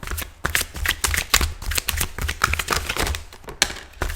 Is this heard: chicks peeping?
no